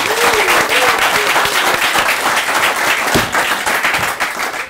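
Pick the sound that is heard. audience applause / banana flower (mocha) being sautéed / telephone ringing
audience applause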